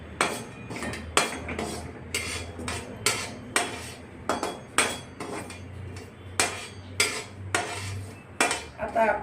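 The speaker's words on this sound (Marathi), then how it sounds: "आपली खसखस भाजून झाली आहे अगदी असं लाल कलर येईपर्यंत भाजून घेणे" Poppy seeds roast in a pan while a utensil stirs them, producing repeated sharp metallic clinks and scrapes in an uneven rhythm over a faint background, close and alone.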